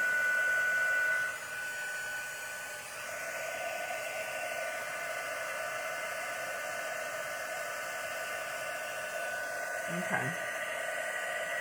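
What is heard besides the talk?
heat gun blowing while heating card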